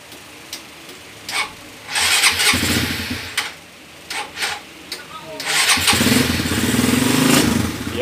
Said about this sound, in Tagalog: Start mo nga yung motor mo